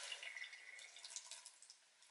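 Tap water runs steadily while makeup brushes are scrubbed and rinsed, a soft continuous splashing with no talking, ending in a brief knock.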